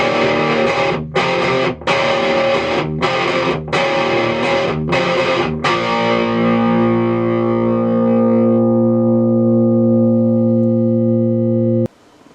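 A Paul Stanley Washburn electric guitar run straight into a combo amp: several loud, distorted strummed chords in a steady rhythm, then a final chord left ringing and sustaining for several seconds before being cut off abruptly.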